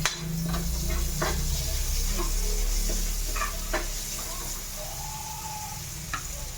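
Onions sizzle in a frying pan for a bitter gourd dish, a continuous close hiss with a few scattered clinks and crackles over a low steady background hum.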